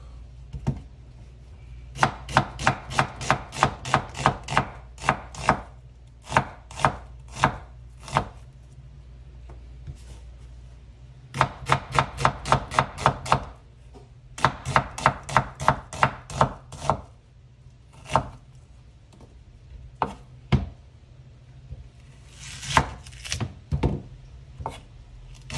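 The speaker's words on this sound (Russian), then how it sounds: "мы можем нашинковать лук" An onion being chopped with a knife for an eggplant dish: close, loud, crisp knife strokes in quick rhythmic runs broken by short pauses, then a few scattered single cuts, with no talking.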